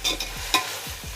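Onions with ginger garlic paste being sautéed in a pan for chicken dum biryani, a close sizzle broken by a few quick scraping stirs of a spatula, with no talking.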